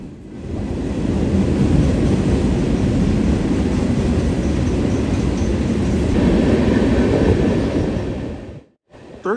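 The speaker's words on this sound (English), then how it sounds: "This is NS train 39G. Manifest out of Pavonia, New Jersey, headed for Conway," Norfolk Southern manifest freight train 39G, led by an AC44C6M locomotive with three rear DPUs, rumbles steadily past at close range with a broad continuous roar of cars and wheels, then cuts off abruptly near the end.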